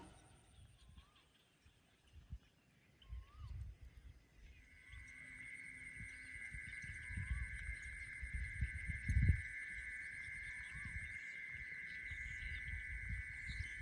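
A steady, high insect-call buzz played from a phone speaker to lure insects starts midway and continues, with faint chirps and low rumbling outdoor noise in the background.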